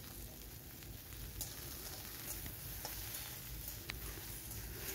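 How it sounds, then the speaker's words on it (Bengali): Okra sizzles steadily in a hot pan while it is stirred, giving a dense, even crackle with occasional faint scrapes. "দেখো ভেন্ডিটাকে আমি খুব ভালো করে একটু নেড়ে চেড়ে ভেজে নিচ্ছি"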